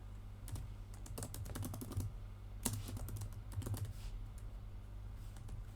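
Typing on a computer keyboard while entering a parking charge into a job-management add-on: bursts of quick, close key clicks with short pauses between runs, over a steady low hum, no talk.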